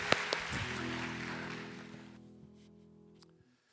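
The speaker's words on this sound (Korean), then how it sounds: "하나님께 영광의 박수 올리며" A church youth congregation claps briefly in praise before a sermon, the burst quickly fading as sustained instrumental tones ring on and decay to quiet.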